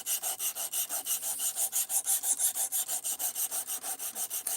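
A knife drawn repeatedly across a sharpener, giving a steady, even rhythm of about twenty bright rasping strokes, close and fairly loud, with no talking.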